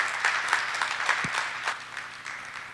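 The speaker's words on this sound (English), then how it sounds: "let's give Lizzie another round of applause for a great presentation" Audience applause follows a dairy forage seminar presentation on automatic milking systems, a fairly soft, continuous patter of many hands with a few sharper claps standing out, heard alone throughout.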